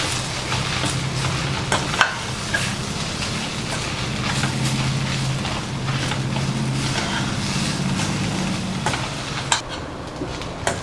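Onions and coconut sauté in a pan for kuzhi paniyaram filling, a soft, even sizzle with occasional clicks and scrapes from stirring, close and steady throughout.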